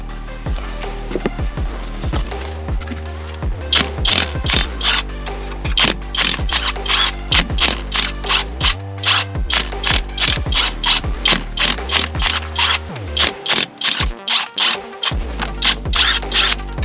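A ratchet wrench loosens wheel bolts on a VW Golf MK5, its rapid clicking pawl buzzing in repeated bursts of strokes, close and loud, with brief pauses between runs.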